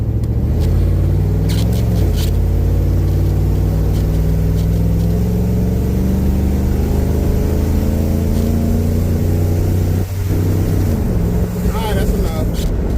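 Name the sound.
LS-swapped old body style truck driving fast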